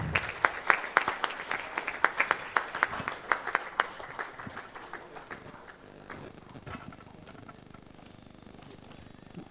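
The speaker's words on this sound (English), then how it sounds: "Please carry loud applause for him." An audience at a chamber panel discussion session applauds with sharp, fairly close clapping that is strong for the first few seconds, then thins and fades into quieter scattered claps.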